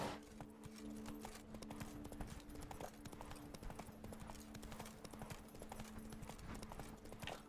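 Steady, quick hoofbeats of a galloping horse in The Witcher 3 run continuously at close range, with a faint game ambience underneath and no voice.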